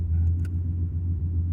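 Steady low idle rumble from a red 1990 Nissan 300ZX sports car engine, close and continuous with no revving.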